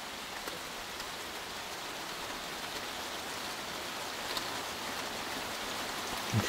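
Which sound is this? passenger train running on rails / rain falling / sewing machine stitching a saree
rain falling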